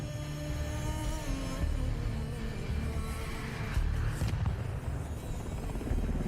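A Black Hawk helicopter in a Delta Force: Black Hawk Down video game cutscene drones steadily with a low rotor rumble and whining engine tones, close and constant, with brief swells partway through.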